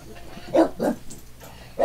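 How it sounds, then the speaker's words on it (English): A dog barks indoors, giving several sharp, loud barks in quick succession, the first two close together and another after a short pause, with no talk over them. "Sorry about the dog barking there."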